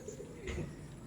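A pigeon or dove coos once, softly and at a distance, on a farm near a dried coconut tree. Low outdoor ambience fills the background.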